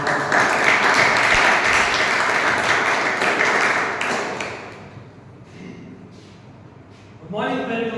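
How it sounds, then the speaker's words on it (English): Toastmasters meeting audience applauding, dense sustained clapping for about four seconds that then fades, with a voice beginning to speak at the end. "So please welcome him on the stage with a big applause."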